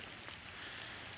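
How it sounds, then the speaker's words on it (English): Rain falling at a construction site with 60-foot trusses, a faint, even hiss of drops that stays steady and continuous throughout, with no talk. "but it's raining"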